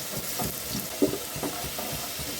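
Potatoes dropped into a pan of hot oil with salt and turmeric, a soft low sizzle under scattered stirring knocks and a sharper clatter near the middle, close and fairly quiet with no speech.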